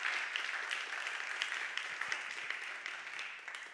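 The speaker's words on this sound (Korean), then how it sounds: "우리 박수 한번 합시다" A church congregation at a revival meeting gives a round of steady, dense applause that fades slightly toward the end.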